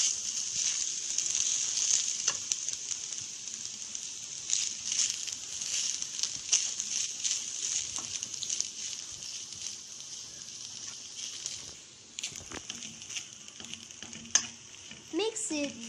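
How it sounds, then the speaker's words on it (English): Cooked boiled rice being stirred into a carrot masala in a pan, a steady bright sizzle with scraping spoon strokes throughout, brief louder clinks near the end. "Now we add boiled rice and mix it well."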